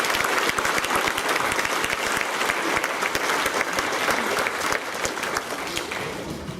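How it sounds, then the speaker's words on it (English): A school assembly crowd of students claps loudly and steadily, a dense wash of applause that tapers slightly toward the end. "let's give all the Cotswold students a big clap for them"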